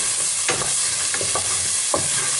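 Garlic sizzling in a hot pan with browned caramelised juices from a shrimp dish, a steady close frying hiss broken by a few soft stirring scrapes.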